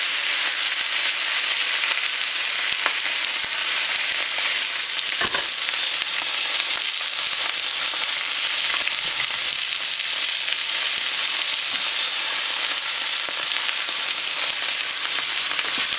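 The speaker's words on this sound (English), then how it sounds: "Now we're going to take the steak and somehow lay it in here without burning ourselves." A large steak sears in a very hot cast iron pan, a loud, dense, steady sizzle and spatter that fills the whole stretch without a break, close up and with no voices.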